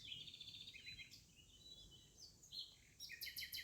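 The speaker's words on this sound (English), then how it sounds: "Birdsong begins. First one note," Dawn birdsong in a quiet natural setting, faint and distant, with thin chirps and trilling phrases overlapping, growing busier toward the end over a low soft background.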